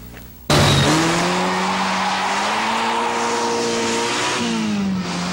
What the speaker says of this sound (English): It's a Ferrari.